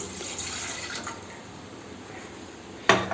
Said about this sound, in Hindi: गाइस काढ़ा बनाने के लिए ये करीब 300 ml पानी होगा मेरे गिलास में, तो उसको हम पॉट में डाल देते हैं